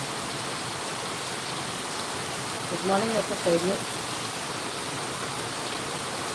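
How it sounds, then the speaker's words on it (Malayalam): Heavy rain pours outside in a steady, dense hiss that fills the whole stretch, while a person briefly speaks over it near the middle. "പുറത്തിറങ്ങാൻ പറ്റാത്ത മഴ എന്തൊരു മഴയല്ലേ"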